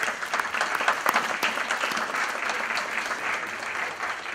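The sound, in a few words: audience applause at a graduation ceremony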